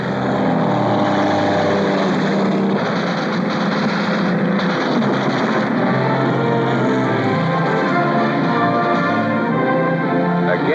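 Film scene of fighter planes in an air battle: a loud, continuous propeller-engine roar fills the whole stretch, dense and unbroken, with no voices over it.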